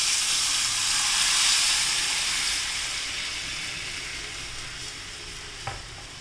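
Milk poured into semolina roasting in a pan for sweet rawa sheera gives a loud, steady hiss and sizzle that slowly fades, ending with a small clink. No one speaks.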